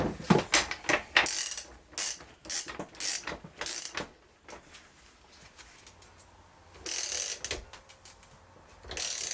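Wrenches tighten stunt pegs on a supermoto, with loud, close bursts of rapid ratcheting clicks in repeated strokes, a quieter lull in the middle, then more ratcheting.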